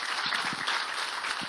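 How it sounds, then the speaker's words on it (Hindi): Applause from a church ministry audience, a dense continuous wash of many hands clapping that holds steady through the whole short stretch, with no talking on top. "मैं आपके लिए ताली बजाना चाहता हूं।"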